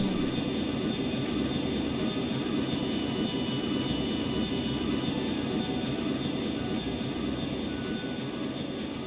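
Flying warships in a video game ship battle give off a continuous, even engine drone like aircraft or jet roar, loud and unbroken throughout with no voices.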